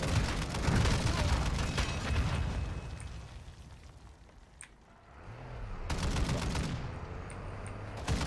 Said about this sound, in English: She's shooting mortar shells